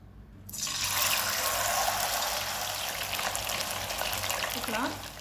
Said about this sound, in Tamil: இப்போ நம்ம ஆயில் சூடு பண்ணியிருக்கோம்